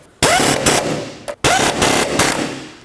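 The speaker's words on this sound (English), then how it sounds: "Tighten up these two nuts at the top." Rapid bursts of an impact wrench or similar power tool tightening nuts on an engine mount of a 2007-2010 Chrysler Sebring, two loud close rattling runs separated by a brief pause, with no talking.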